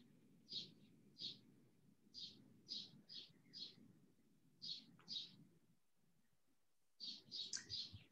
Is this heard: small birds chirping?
yes